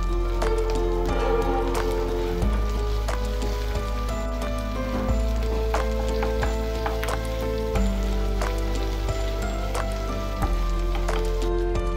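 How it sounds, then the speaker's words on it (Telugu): Green chillies with ginger garlic paste and turmeric frying in a pan, a continuous bright sizzle layered with tonal clinks and a steady background of faint music-like tones, no speech. "పచ్చిమిరపకాయలు కొద్దిగా ఫ్రై అయిన తర్వాత ఇందులో అల్లం వెల్లుల్లి పేస్ట్ పసుపు వేసుకోవాలి"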